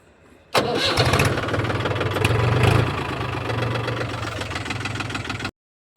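A farm tractor's engine cranks and catches abruptly after a quiet moment, then runs at a loud, rough idle with a steady chugging rhythm before cutting off near the end.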